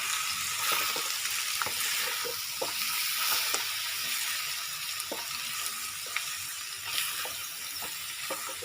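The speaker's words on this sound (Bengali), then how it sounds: "ঘি দিয়ে আমি এবার একটু নেড়ে নিই, নেড়ে নিয়ে নামিয়ে দেবো।" Banana flower ghonto being stirred in a pan after ghee goes in, with a steady bright sizzle throughout and intermittent soft scraping strokes of the spoon against the pan, close and fairly loud.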